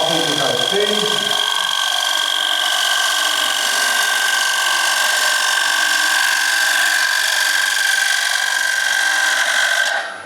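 Wood-turning tool cutting a thin-walled bowl on a spinning lathe, a sustained scraping, hissing cut with steady high tones for about ten seconds, close and loud, with a brief rougher chatter at the start.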